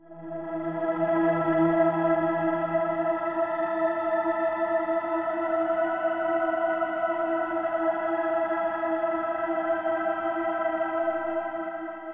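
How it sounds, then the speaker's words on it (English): A bright, shimmering high synth pad from a melodic techno sound pack, sustained and steady for about twelve seconds with stacked chorus-laden harmonics and a lower tone fading out early, no voices. "Synth Celestial is this high pad sound."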